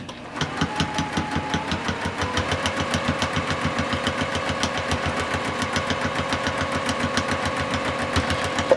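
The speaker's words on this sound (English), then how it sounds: "I'm going to just start sewing it." A sewing machine stitches binding onto a quilt, its needle thumping in a fast, even rhythm with a steady motor hum, close and loud for several seconds, no talking.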